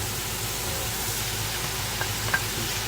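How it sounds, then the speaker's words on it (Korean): Rice, onion and shrimp stir-frying in sesame oil in a pan give a continuous close sizzle with faint scraping stirs, a few small pops standing out near the end. "양파 넣고 쌀 넣고 그러면에 새우 넣고 일단 볶네요."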